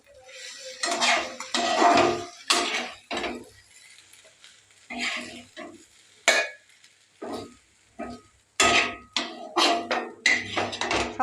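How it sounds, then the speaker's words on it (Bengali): Cooked tilapia fish is scraped and spooned out of a pan into a mixer jar, with repeated clattering metal clinks and knocks in irregular bursts separated by brief quiet gaps. "এবার আমি গ্যাসটাকে বন্ধ করে একটা মিক্সিং জারের মধ্যে দিয়ে দেবো।"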